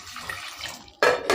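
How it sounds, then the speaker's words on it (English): Water pours steadily into a cooking pot holding yam, a continuous splashing gush that briefly grows louder and sharper in two surges near the end, close by with no talking. "Add some water"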